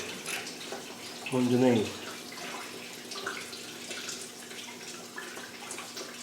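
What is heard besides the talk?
coolant draining from 300Tdi engine block into bucket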